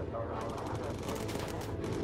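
Bomber turret machine guns chatter in steady, continuous bursts in the WWII bomber game Bomber Crew, dense and close, with a low rumble of engines underneath and no talk.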